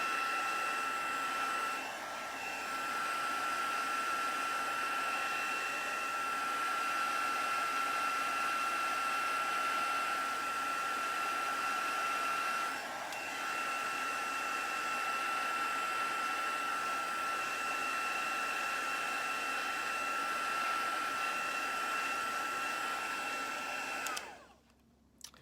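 A handheld dryer blows on damp cardstock with a steady, close whine and airy rush that holds for nearly twenty-five seconds with slight dips, then cuts off abruptly.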